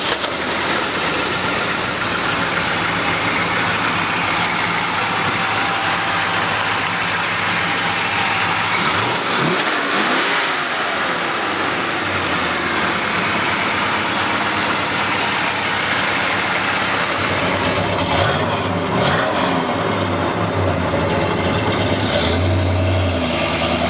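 A 1971 Ford Torino Cobra drives along with its engine running steadily, a continuous loud rumble and road noise that swells as the car accelerates, without voices.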